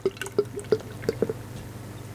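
Schneider Weisse Tap 5 wheat beer being poured from the bottle into a glass, a quick run of gurgling glugs and liquid drips, close and fairly quiet with no talk.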